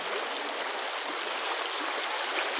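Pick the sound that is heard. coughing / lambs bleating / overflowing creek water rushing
overflowing creek water rushing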